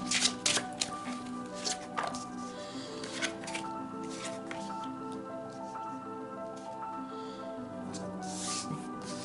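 Tarot cards are shuffled for a simplified Celtic cross spread, with soft repeated riffling and flicking bursts that are faint and close, set against a low steady background tone.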